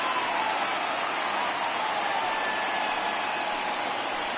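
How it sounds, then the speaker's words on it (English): Baseball crowd at Guaranteed Rate Field, home of the White Sox, swelling into a steady, dense roar of cheering that holds loud and even throughout, with no voices standing out. "The crowd getting loud here at Guaranteed Rate Field."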